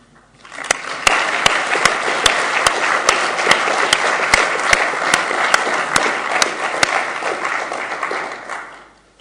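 An audience at an international semantic web conference in Auckland gives sustained, even applause, with a sharp recurring click repeating regularly through the clapping before it dies away.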